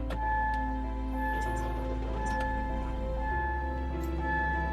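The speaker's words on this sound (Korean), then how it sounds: "굉장히 조용한 엔진 소리 들으실 수 있습니다" A 2016 SsangYong Korando Turismo 2.2 diesel van engine idles quietly and steadily throughout with a low droning tone and faint ticking, and its pitch shifts slightly near the end, heard from inside.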